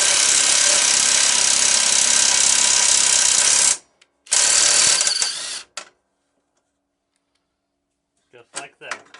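A bolt is turned by hand to cut threads into steel during a GT6000/GT5000 steering box installation. It makes a harsh, continuous grinding rasp that stops abruptly, resumes briefly, then fades into a few faint scrapes.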